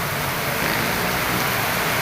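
Heavy rain pours down in a dense, unbroken roar of noise, loud and steady with no other sounds standing out.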